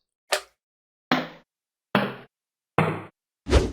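Five short squelchy thumps in an even, slow rhythm, each a quick bouncy hit that fades fast, alone with silence between them: Minecraft magma cube sounds.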